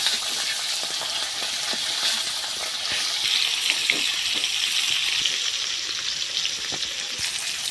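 Soft pomfret fish frying in hot oil in a heated pan, a dense continuous hiss close by and fairly loud, with faint taps of turning and no voices.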